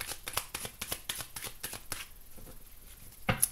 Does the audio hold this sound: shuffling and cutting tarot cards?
yes